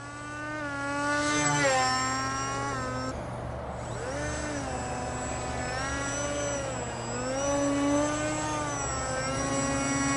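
An RC SU-27 model jet with an 8-inch propeller flying a loop, its electric motor whining steadily and sliding up and down in pitch as the plane climbs and dives, fairly loud and continuous outdoors.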